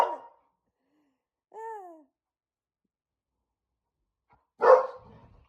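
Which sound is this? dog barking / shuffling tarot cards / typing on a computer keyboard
dog barking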